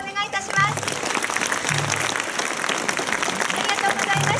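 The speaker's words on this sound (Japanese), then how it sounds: "皆様今一度拍手をお願いいたします。" Applause from an audience after a Japanese taiko drum group's performance in a mountain town, a steady wash of clapping with faint voices and a few tonal sounds mixed in.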